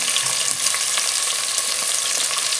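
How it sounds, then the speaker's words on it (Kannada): Onions fry in a pan for vegetable pulao, filling the clip with a loud, dense, unbroken close-up sizzle and faint stirring ticks, with no voices. "ಈರುಳ್ಳಿ ಫಸ್ಟ್ಗೆ ಹಾಕಬೇಕು."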